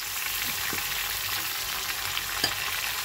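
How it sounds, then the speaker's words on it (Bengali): A masala of chopped tomato, chili and cumin-coriander paste sizzles steadily in a pan while a utensil stirs it with a few soft scrapes and knocks. "এবার এটাকে আমি ভালো করে কষিয়ে নেব এই মশলাটাকে।"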